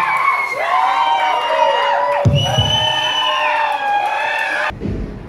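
A concert crowd at The Summit Music Hall in Denver cheers and whoops in a sustained roar for a show, loud and close, with shouts rising and falling before cutting off abruptly near the end.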